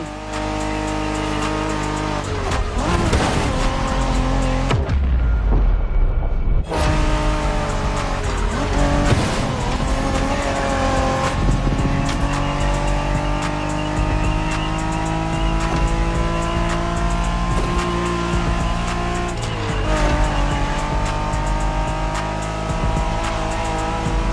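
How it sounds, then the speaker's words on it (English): A Honda NSX sports car engine in a video game roars steadily at high revs with tire squeal, loud and continuous, briefly dropping out before the motor surges back. "Are you familiar with the Honda you're driving?"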